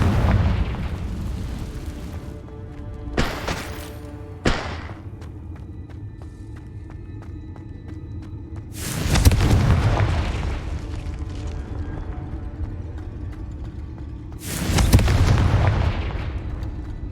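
Confringo fire spells blast in the Hogwarts Legacy combat game, with several heavy booming explosions, some sharp and some rolling, over a steady layer of game music and ambience.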